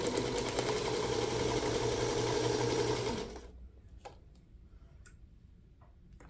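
A sewing machine stitches straight across a seam allowance on a foundation paper-pieced quilt block, with a loud, even run for about three seconds. It then stops, leaving quiet room tone and a few faint clicks.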